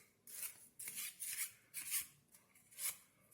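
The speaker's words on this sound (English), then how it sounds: "Now you're going to do an overhand shuffle and control their card to the bottom of the deck like this." An overhand shuffle of a deck of playing cards, heard as close, crisp riffling bursts of card edges in about five uneven sweeps, with short pauses between them and no talking.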